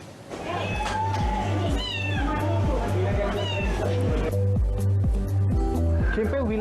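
Cats meowing at a Malaysian cat club vaccination campaign, several loud, drawn-out meows near the microphone over a rhythmic background beat, with speech mixed in.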